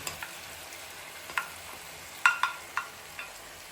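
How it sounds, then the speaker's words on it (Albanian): Tomatoes and peppers for a fergesë fry quietly in a pan, a soft steady sizzle broken by a handful of sharp clicks from a utensil against the pan. "Domatët dhe specet janë frutur mirë, tash ja shtojna gjizën."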